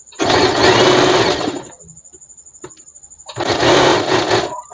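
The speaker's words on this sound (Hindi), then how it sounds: "और इसी तरह से पूरे आर्म होल को हम स्टिच कर लेंगे" An electric sewing machine stitches around a garment armhole in two loud whirring bursts, with a quieter ticking of slow manual stitches between them, close and without speech.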